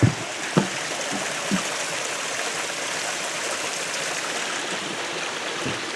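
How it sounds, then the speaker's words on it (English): A small creek runs beside a trail bridge near Owyhigh Lakes, giving a steady, even rush of water with a few soft knocks near the start. "A little creek running here"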